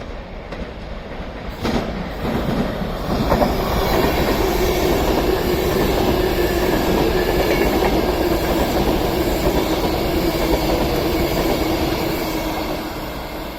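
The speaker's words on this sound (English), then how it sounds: "it's passed through again now is another Avanti West Coast Class 390 from Liverpool Lime Street to London Euston" An Avanti West Coast Class 390 electric train passes through Crewe station on the West Coast Main Line, a loud sustained rushing roar with rhythmic wheel clatter that swells within a few seconds, holds steady, then begins to fade.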